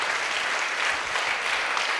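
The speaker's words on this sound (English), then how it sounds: "A big round of applause to all the great people involved." Standing ovation applause for the Chandrayaan 3 launch success, a dense, even wash of many hands clapping from a large audience, steady and fairly loud across the whole short stretch.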